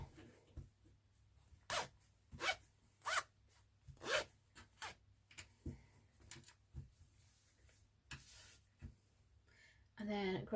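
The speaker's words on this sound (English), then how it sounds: "I've got a really stiff zipper." A stiff zipper is slid back and forth on fabric during sewing, making a series of sharp rasping bursts up close, with quiet speech and small handling noises between them.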